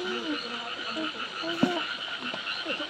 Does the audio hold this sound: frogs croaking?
yes